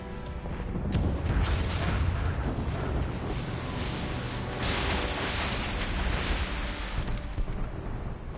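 Ship cannons fire during a naval battle in the video game Assassin's Creed Rogue, with dense, continuous booming and rumbling blasts layered over battle noise for the whole stretch.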